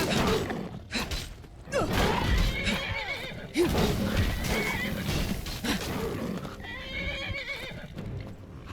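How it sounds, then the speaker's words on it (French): Horse in the video game Skyrim neighs and whinnies repeatedly amid clip-clopping hooves and combat clatter, loud and close, with a brief lull between bursts. "Le problème du cheval, c'est qu'il vient pour nous attaquer, vous voyez."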